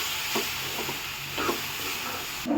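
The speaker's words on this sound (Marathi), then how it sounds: "आता पूर्णपणे गुळ वितळूपर्यंत आपल्याला एकसारखं हलवून घेत राहायचं आहे" A spoon stirs a jaggery modak filling in a pan as it melts, with a steady sizzling hiss and a few soft scraping strokes at an even pace.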